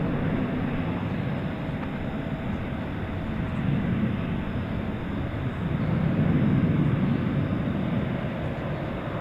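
A jet aircraft at DFW Airport at night, its steady broadband engine roar rumbling continuously at moderate distance, swelling slightly toward the end with no voices over it.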